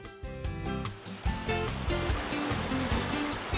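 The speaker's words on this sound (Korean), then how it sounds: "밀려오는 파도에 고운 모래가 들썩이는 백사장이 눈부신데요" Ocean waves wash onto the fine sand of Sokcho beach on Korea's east coast, a steady surging hiss heard under background music with no voices.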